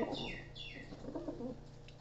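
Pigeons recovering from paralysis coo softly nearby, low throaty murmurs mixed with a few brief higher chirps against a faint background hum.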